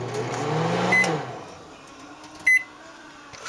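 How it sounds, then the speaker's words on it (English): A home microwave oven hums briefly up close before the hum cuts off, followed by a short bright beep and a quiet pause. "this is my microwave."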